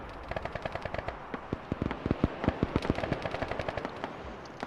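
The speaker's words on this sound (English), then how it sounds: "Bravo's taking heavy fire now." Heavy sustained gunfire in the military game Arma 3: rapid, dense automatic bursts and overlapping shots, loud and continuous throughout, with no talking.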